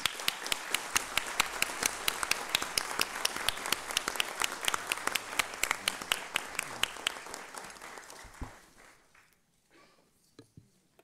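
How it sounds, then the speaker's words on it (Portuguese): A hall full of people applauds newly elected council members at a special plenary session of a state audit court, steady dense clapping that thins out and fades to a few scattered claps near the end. "Uma salva de palmas aos eleitos."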